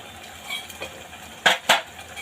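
A home-ground masala paste is stirred in hot oil in a pan, with a faint sizzle under a few scraping taps and two sharper clinks of the spoon against the vessel.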